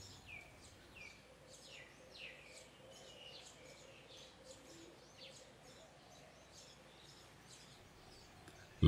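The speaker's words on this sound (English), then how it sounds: "I've left the sound on because we get the sound of the birds as well then" Birds calling in a town house garden in Thailand: repeated short chirps and whistled notes scattered over a quiet, faint background, moderately distant, with a soft low cooing underneath and a sudden bump at the very end.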